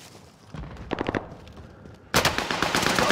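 Rapid automatic gunfire in the Call of Duty: Modern Warfare video game, a short burst of shots followed by a louder, sustained rattling volley, close and harsh.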